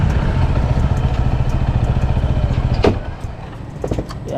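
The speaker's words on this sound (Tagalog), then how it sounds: "Tabi ko muna itong motor." A parked motorcycle idles on a drizzly roadside, its steady close engine chug running alone for nearly three seconds before dropping to a quieter, uneven rumble with faint clatter.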